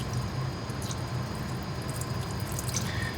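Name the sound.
machine coolant running over metal surfaces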